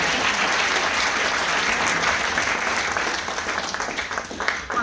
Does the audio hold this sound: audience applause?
yes